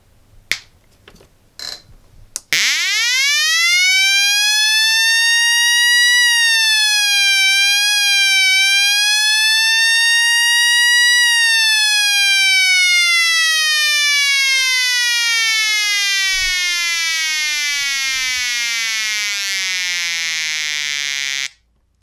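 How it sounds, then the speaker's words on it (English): Electronic push-button siren circuit with a BC337 transistor, run on 7 volts: a loud buzzy tone sweeps up, wavers while the button is held, then slides steadily down after release, preceded by a few brief clicks. "when you hold the push button, the siren goes up with the tone, and when you release, the tone goes down"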